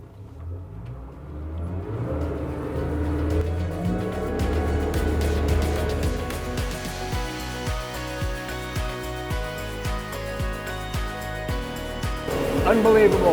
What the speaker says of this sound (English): I should be able to get up on plane with one engine